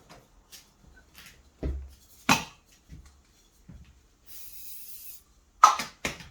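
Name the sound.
spray being sprayed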